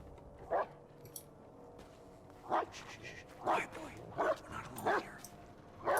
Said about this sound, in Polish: Myślę, że to jest pies szczeka ogólnie.